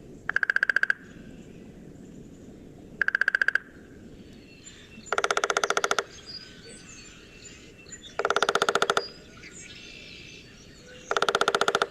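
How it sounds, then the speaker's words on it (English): A woodpecker drums its bill on a tree trunk in five separate rapid bursts, each a fast even roll of sharp knocks lasting about a second, spaced by quiet pauses against faint outdoor ambience. "what that is the woodpecker drumming"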